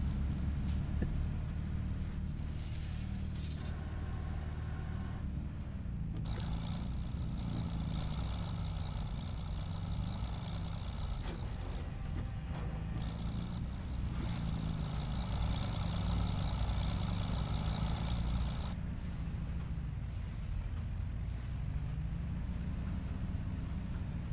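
Tractor engine in a farming game on a very steep slope of Witcombe Park Farm, a steady low droning hum that runs without a break and holds even, with brief tonal shifts from the machine along the way.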